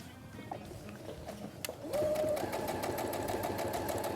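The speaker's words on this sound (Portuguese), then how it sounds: "Eu venho para a máquina de costura" Sewing machine stitching a crochet bag runs in a steady mechanical whir that starts about halfway through after a few soft handling clicks, close and continuous to the end.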